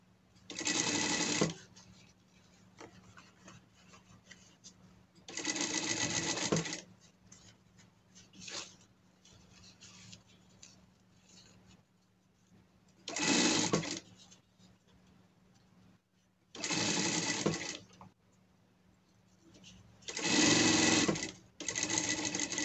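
A sewing machine stitches a leather dog harness in five loud bursts of rapid stitching, separated by quiet pauses with soft handling noises.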